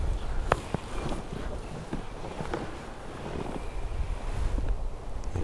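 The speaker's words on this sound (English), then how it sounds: "Of course, the wind's going to pick up now." Wind gusting outdoors on a turkey hunt in Mississippi, a steady low rumbling buffet across the microphone with faint rustling, no voices heard.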